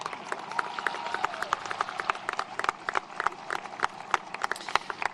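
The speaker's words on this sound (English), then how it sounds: "you can clap for that" Graduation audience at a Bearden High School ceremony clapping steadily, a dense patter of many hands spread across a large room for several seconds.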